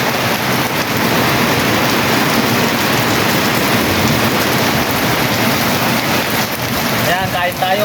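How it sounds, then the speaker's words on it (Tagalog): Heavy rain pours down steadily and loudly, a dense continuous roar close by with no break, dying slightly near the end. "lakas ng ulan, grabe"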